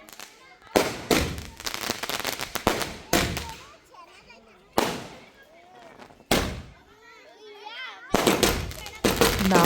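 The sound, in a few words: firecrackers bursting at Ganesha festival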